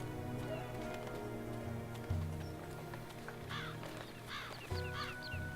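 A crow in the game Dreamfall Chapters caws a few times, short raspy calls rising over steady ambient game music and a soft patter, with no talk.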